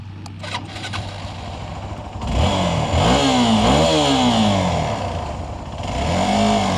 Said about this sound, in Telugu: నేనైతే ఎక్స్పల్స్ 200 4V ర్యాలీ వెహికల్ అయితే రైడ్ చేయబోతా ఉన్నాను